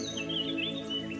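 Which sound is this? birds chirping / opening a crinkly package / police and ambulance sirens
birds chirping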